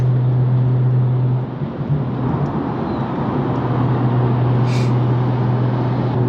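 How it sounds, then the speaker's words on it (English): An Audi passing quickly on a dual carriageway, heard from inside a car fitted with new track tyres: a steady road and engine rumble with a loud low hum and a brief whoosh as it goes by. "This Audi is coming past me very quickly."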